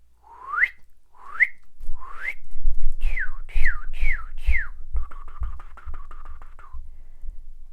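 A person whistles a series of rising, swooping notes, then a quick run of short chirping tones, imitating a bird call, with low rumble beneath.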